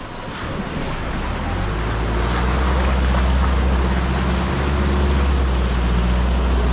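A 4WD pushes through the Nolan's Creek water crossing on the Old Telegraph Track, giving a loud, continuous rush of water and engine noise that builds and holds steady.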